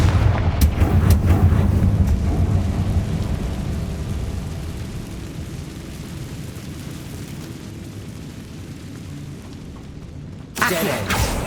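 A Confringo blasting spell explodes in Hogwarts Legacy, a loud rumbling boom that rolls and slowly fades over several seconds, followed by a sharp burst of noise near the end.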